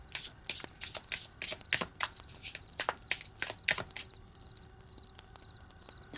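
Oracle cards are shuffled and drawn from a tarot-style deck in a series of quick papery riffles and flicks, close and fairly crisp, with the pace slowing into lighter handling toward the end and no voices.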